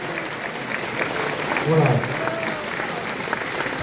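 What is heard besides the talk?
audience applause welcoming newcomers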